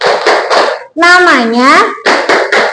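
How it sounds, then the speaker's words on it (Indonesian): A group clapping routine done in unison, probably by children: two short bursts of three sharp, close claps are separated by a sung or chanted voice. "Tepuk suri teladan Imam Syafi'i."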